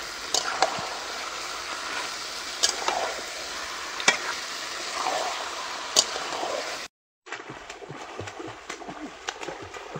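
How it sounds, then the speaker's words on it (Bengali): Meat being stir-fried with ground cumin paste in a pot over a clay stove: steady frying sizzle with repeated scraping stirs, a brief cut near the end, then quieter sizzling and stirring. "জিরে বাটা দিয়ে আরেকটু কষিয়ে নেব।"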